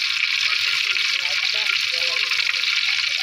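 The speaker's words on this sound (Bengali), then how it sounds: "ভেজে নেওয়া হচ্ছে।" Hilsa fish fries in hot oil, a dense, even hiss that holds steady throughout, with a faint voice murmuring underneath.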